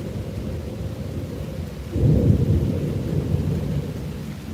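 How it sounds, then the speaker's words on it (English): A deep rolling thunderclap breaks over a steady hiss of rain during a summer thunderstorm in Tulsa, Oklahoma, heard from a front porch, the low rumble swelling suddenly then fading back into the downpour. "So we heard a really good thunderclap just hit."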